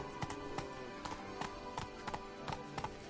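Roach the horse gallops in The Witcher 3: Wild Hunt, a faint, steady rhythm of hoofbeats clopping at a quick pace over a low game ambience.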